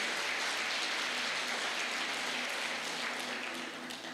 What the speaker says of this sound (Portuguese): Você pode dar um aplauso a Jesus por isso aí?